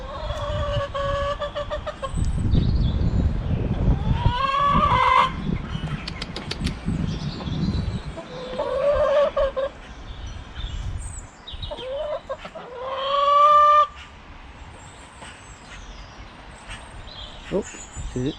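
Backyard chickens clucking and squawking, including a noisy hen named Edith, with bursts of wing flapping and rising cackles from close by, while a person talks between the calls.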